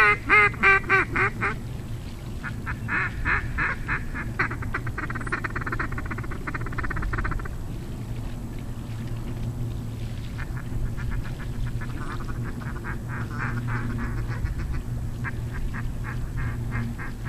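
Ducks quack and honk during an early-December duck hunt for mallard greenheads and pintails, with a loud rapid run of calls at the start and then repeated quacking over steady outdoor noise.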